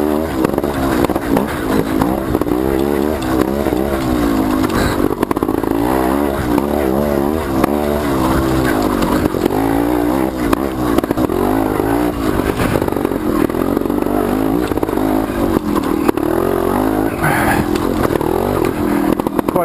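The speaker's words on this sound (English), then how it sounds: "I bet he's surprised to see a trials bike go by him." Trials motorcycle passing during an enduro race, a steady loud engine drone with shifting revs throughout, close and continuous with no talk.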